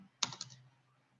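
A short burst of typing on a computer keyboard while entering a name on a business card design in CorelDraw X8, a few quick close keystrokes and then quiet.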